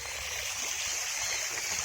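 A park fountain sprays coloured water, giving a steady, dense splashing rush that stays loud and even throughout, with no talk.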